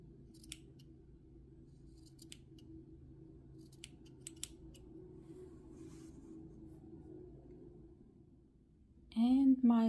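Scissors snipping crochet yarn, a few faint, sparse clicks spread through near silence, followed at the end by a short burst of talking.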